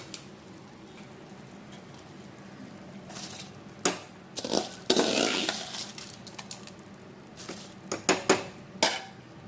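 Rice being mixed in a pot for a green gram and coconut milk rice, with a run of close metallic clinks, scrapes and grainy rustles from a spoon against the vessel, busier toward the end.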